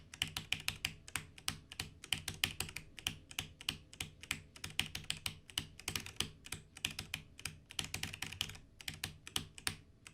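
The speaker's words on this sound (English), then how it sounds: "First, my Logitech keyboard." Rapid bursts of typing on a Logitech computer keyboard, crisp key clicks coming in quick irregular clusters with short pauses, close and clear with no voices.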